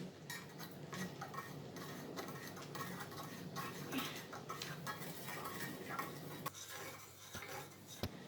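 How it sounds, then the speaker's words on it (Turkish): A spoon scrapes and clicks steadily against a small pan as sugar is stirred for dalgona candy, soft close-up ticking strokes with one sharper clink near the end. "Sonra karıştırmaya başlıyoruz."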